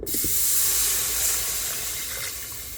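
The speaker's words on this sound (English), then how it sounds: "Pour the water in." Water pours steadily into a pan of flour browned for smothered pork chops, a loud continuous close rushing splash that holds for nearly three seconds before easing slightly.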